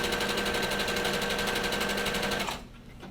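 A Brother SQ9285 sewing machine runs a zigzag stitch in a fast, even mechanical whir with a rapid needle rhythm, loud and close, then stops abruptly near the end.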